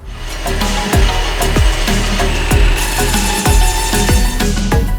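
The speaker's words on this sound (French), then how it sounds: "On scie avec nos scies à câbles que vous voyez là." Loud grinding of a diamond wire saw cutting concrete during demolition, with a steady abrasive rasp and repeated rhythmic thumps about once per second, close and continuous.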